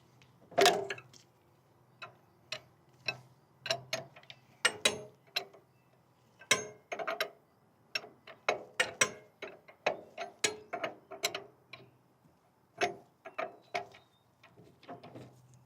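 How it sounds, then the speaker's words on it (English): A 24 mm wrench works the unloader loose from a pressure washer pump manifold, giving a series of sharp metallic clicks and ratcheting taps, irregularly spaced across the clip, close and clear with no talk. "take a 24 millimeter wrench and remove the unloader from the manifold"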